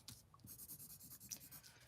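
Pencil scratching across a sheet of paper in quick, uneven strokes, close and fairly quiet, with short pauses between bursts.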